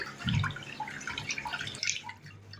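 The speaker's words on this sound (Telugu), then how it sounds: "కుక్కర్లో 1 గ్లాస్ బియ్యం తీసుకొని వీటిని ఒకసారి శుభ్రంగా వాష్ చేసుకోండి" Rice being washed with water in a pressure cooker, giving soft close splashes and drips with a brief louder slosh near the start, quiet overall.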